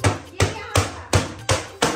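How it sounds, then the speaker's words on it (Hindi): A hammer pounds on an object that has been turned upside down, landing six sharp, evenly spaced blows, loud and close, with no talking. "और उसके ऊपर हथौड़ा मार रहा है"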